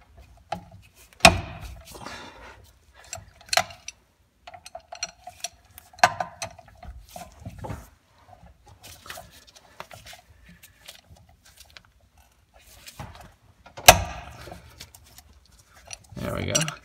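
A ratchet breaks loose differential bolts on a 2003–2004 Ford Cobra with independent rear suspension, sounding as sparse close clicks and sharp metallic knocks between quiet gaps, with someone talking intermittently.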